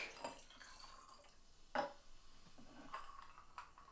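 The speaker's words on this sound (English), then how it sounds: "Give it a little splash of tonic." Tonic water poured in a small splash into a glass of Four Pillars Rare Dry Gin, soft liquid trickles and light glass clinks, quiet and close with no talk.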